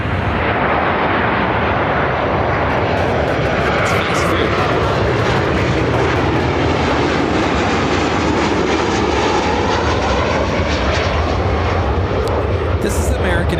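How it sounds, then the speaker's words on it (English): American Airlines Boeing 737-800 arriving at Chicago O'Hare from Phoenix, a loud continuous jet roar with broadband rushing noise throughout, and people talk over the engine sound. "This is American Airlines 338 coming in from Phoenix, Arizona on the 737-800."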